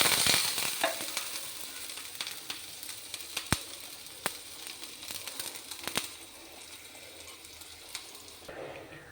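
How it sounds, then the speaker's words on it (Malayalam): Chopped shallots frying in hot oil for a Kerala-style prawn and mango curry, a soft continuous sizzle broken by sharp scattered pops and crackles, close and moderate, fading gradually. "എണ്ണ ചൂടാകുമ്പോൾ നമുക്ക് അതിലേക്ക് ഈ ചെറിയുള്ളി അരിഞ്ഞത് ഇടാം"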